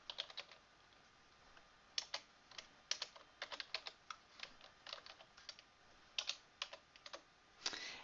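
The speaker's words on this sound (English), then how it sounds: "Then I'll type, say," Keystrokes on a computer keyboard while a bulleted list is entered in Microsoft Word, as irregular bursts of quiet, close clicks with brief pauses between words.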